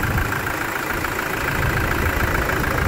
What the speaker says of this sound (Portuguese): olha como está o motor. Tá dando aquela pré-aquecida.